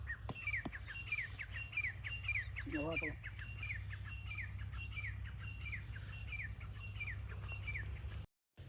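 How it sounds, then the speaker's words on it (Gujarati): Small birds chirp in repeated quick tweets throughout the fields, steady and fairly close, over a low constant hum, with a brief louder call midway. "પક્ષીઓનો અવાજ, પક્ષીઓનો કલરવ"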